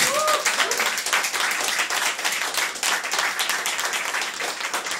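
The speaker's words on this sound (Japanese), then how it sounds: "もう一度拍手をください。" An audience at a small live music show claps steadily after a set, a dense patter of many hands that goes on loud and close throughout.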